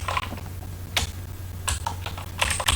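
Keys clatter on a computer keyboard in quick, irregular bursts of clicks, close and fairly crisp over a faint steady hum, with no talking.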